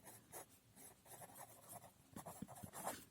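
Pen writing out a maths solution on paper, a quiet close series of scratchy strokes in an irregular rhythm, alone without talk.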